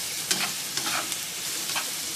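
Chopped onions sizzle and crackle steadily in a little hot oil as they fry until crisp, with occasional stirring scrapes rising above the constant frying hiss.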